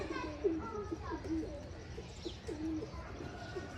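Pet pigeons coo in soft, repeated throaty phrases close by, with scattered chirps and a faint murmur of background activity.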